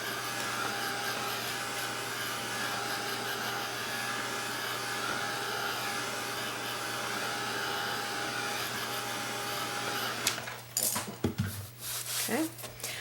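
A hair dryer dries acrylic paint on a Dollar Tree canvas, giving a steady, close whoosh for about ten seconds. It then cuts off, followed by some handling clatter.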